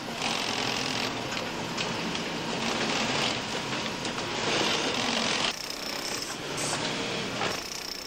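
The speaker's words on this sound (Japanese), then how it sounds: "切り分けられたパーツは一つずつミシンで縫い合わされます。" An industrial sewing machine stitches leather Toyota car seat parts with a steady, close, rattling whir that runs without pause and shifts slightly in tone partway through.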